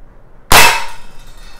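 One sharp, loud pop of a Legends C96 CO2 blowback BB air pistol shot with a hissing burst of gas that quickly fades, after near silence.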